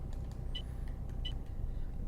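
A bus driven in the Omsi 2 simulator, West Country setting, pulling around a corner: a steady low engine rumble throughout with a few brief high hisses and clicks over it.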